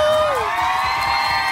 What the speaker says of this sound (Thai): ขอเสียงปรบมือให้อีซูซูด้วยครับ